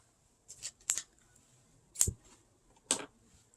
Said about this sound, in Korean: 실을 잘라줍니다